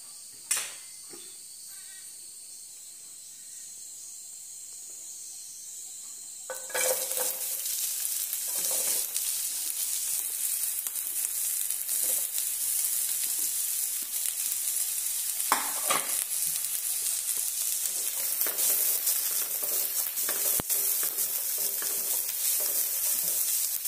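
Oil heating in a pan for palak paneer sizzles loudly and steadily after a sharp clatter, with occasional stirring scrapes and crackles over the continuous hiss, close and alone.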